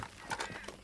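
Horse hooves clip-clop steadily in Red Dead Redemption 2, with a brief whinny mixed in, all in under a second at moderate loudness.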